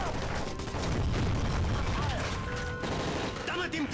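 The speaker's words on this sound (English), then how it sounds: "That's gunfire!" Gunfire breaks out aboard a hijacked plane in Call of Duty Modern Warfare 3: rapid shots and bursts crackle continuously under shouting voices and a dense, busy mix of alarms and commotion throughout.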